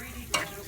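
Quick-cooking rib-cut steak sizzles on a grill as a steady, close hiss, with one brief louder crackle flaring up midway before settling back into the even frying noise; no voices.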